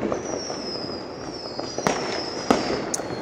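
New Year's Eve fireworks and firecrackers from a balcony in Berlin crackle in a dense, continuous background rumble, with a high whistle trailing across and several sharp, close bangs near the end.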